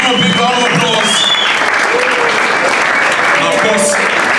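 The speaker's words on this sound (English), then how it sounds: "Please give him a big round of applause" Audience applause for heavyweight champion Kevin Larina at a boxing promotion press conference, a steady, dense wash of clapping that lasts throughout, with a voice speaking over it.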